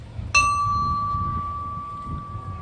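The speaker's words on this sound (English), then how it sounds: "We toll the bell for our POWs and MIAs." A single memorial bell struck once at an outdoor Memorial Day lost-at-sea ceremony in Cayucos, a clear ringing tone that lingers and slowly fades over a faint background murmur.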